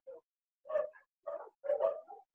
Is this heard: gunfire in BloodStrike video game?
no